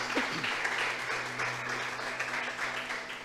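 Church congregation applauding during a sermon, a dense, sustained wash of many hands clapping together, with a voice rising briefly over it.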